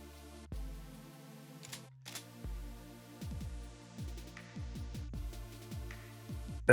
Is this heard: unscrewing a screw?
yes